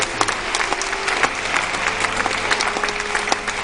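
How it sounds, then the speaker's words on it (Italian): An audience at a disco claps in dense, continuous applause that stays steady throughout, with faint crowd murmur underneath. "Se volete fare un applauso da dare"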